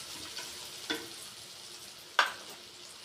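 Sliced okra fries with garlic and turmeric in a pan, giving a faint, steady sizzle, and two sharp stirring scrapes stand out against it, one near the start and a louder one later.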